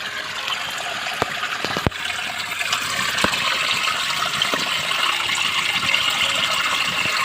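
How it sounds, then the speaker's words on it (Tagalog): Strong water gushes steadily from a leak beneath a damaged floor, a loud continuous rushing broken by a few sharp knocks. "Ang lakas ng tubig."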